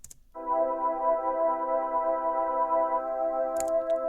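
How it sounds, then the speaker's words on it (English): A plain pad synth, dry before any arpeggiator or plugins, swells in after a brief click and holds one steady, sustained chord that stays loud and even until a short noise near the end. "Also sounds like a pad synth sounds"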